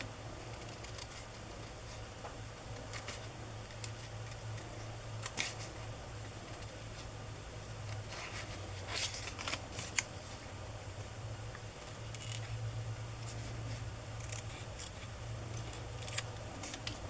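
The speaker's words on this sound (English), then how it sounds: "I'm going to cut that white out." Scissors snip through paper while cutting out a tag for a journal, a series of soft, irregular clicks and crisp cuts over a steady low hum, no one talking.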